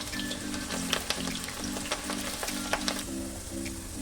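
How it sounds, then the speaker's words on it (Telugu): Onions and curry leaves frying in about 150 grams of oil, a continuous close sizzle with scattered soft scrapes and taps from stirring, with no talk. "నూట యాభై గ్రాముల ఆయిల్ ఉల్లిగడ్డ వేసుకొని కరివేపాకు వేసుకొని ఎర్రగా వేయించుకోవాలి"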